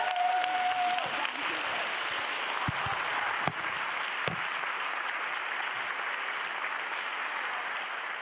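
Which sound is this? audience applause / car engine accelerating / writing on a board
audience applause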